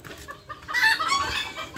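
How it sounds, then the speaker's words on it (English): Several chickens cluck and squawk together at close range, a busy overlapping chatter of hens with a louder burst partway through. "There are lots of chickens here."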